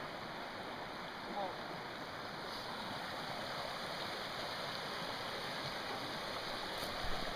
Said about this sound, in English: What's that noise? The waterfall over there, yeah.